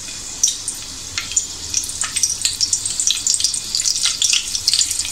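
Curry leaves sizzle and crackle in hot oil for a Malvani-style raw jackfruit vegetable, bright irregular spitting pops close up, steady and alone with no talk.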